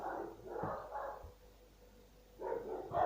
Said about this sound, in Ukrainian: У мене Соня гавкає.